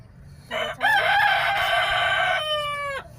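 A rooster crows once, loud and close, a long drawn-out call that rises and then holds steady before breaking off.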